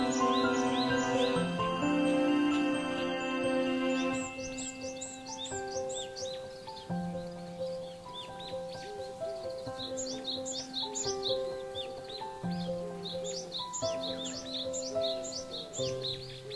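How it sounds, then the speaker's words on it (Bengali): Birds chirp in bright, repeated bursts among the trees of a resort near Dhaka, heard over a steady bed of sustained musical tones. "পাতার শব্দ আর পাখিদের ডাক শুনে শুনে এই ওয়াকওয়ে ধরে হাঁটতেই বেশ প্রশান্তি"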